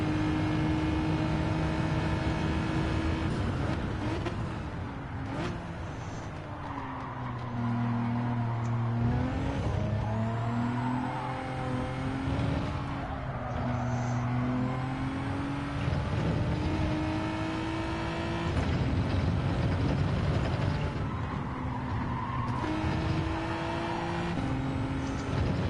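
Race cars in a racing video game, one doing burnouts: engines drone and rev in rising and falling pitched sweeps, loud and continuous, several motors layered together without speech.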